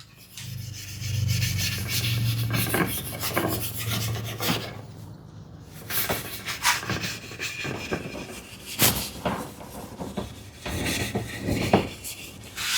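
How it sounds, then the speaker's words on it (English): Steel wool rubbing wax into wood on a hand-built shoe tidy, a close, rasping scrub in repeated back-and-forth strokes with brief pauses between passes. "initial few time strokes with this steel wool, I am taking wax like more frequently"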